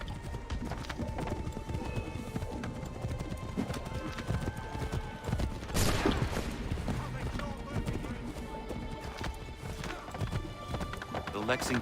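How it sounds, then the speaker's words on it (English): Rapid, rhythmic hoofbeats of a galloping horse in the video game Assassin's Creed 3, steady and close, with a brief whinny-like burst midway and speech layered on top. "Take that horse, Radon Hungedon."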